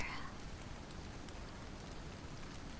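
Steady cold rain falling, a soft even hiss with no breaks, faint and continuous.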